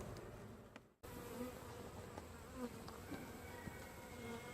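Honey bees from an opened hive during an inspection make a steady, dense buzzing drone close by, continuous across the moment after a brief dip, with no talking.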